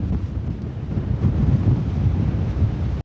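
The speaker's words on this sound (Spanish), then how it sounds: "Hay mucho viento, mucho. Miren las olas que tiene." Strong wind roars across a lake and whips up waves, a steady, loud rush with heavy buffeting against the microphone and no voices.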